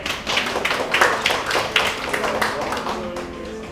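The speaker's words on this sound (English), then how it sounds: "Let's give a big applause to everyone." An audience at a school debate semi-final claps for the teams, a lively burst of hand claps with distinct sharp hits near the start easing into a softer patter.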